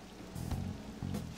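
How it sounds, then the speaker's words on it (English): Steady rain patters in the background in the video game Persona 5 Royal, with a few louder low-pitched bursts layered over the hiss. "This rain ain't too bad."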